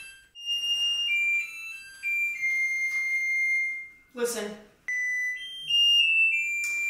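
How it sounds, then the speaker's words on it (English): An oven timer sounds in long, shrill electronic beeps at a couple of alternating pitches, closely resembling a fire alarm, with a brief spoken word cutting in between the tones. "It's kind of giving fire alarm."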